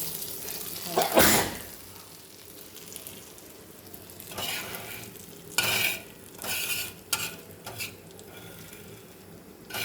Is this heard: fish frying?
yes